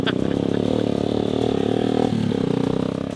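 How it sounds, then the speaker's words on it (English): A motorbike engine chugs and revs steadily up close while being taken down a river, a continuous rough mechanical drone with clattering, and a brief shift in pitch midway. "They're taking a motorbike down the river."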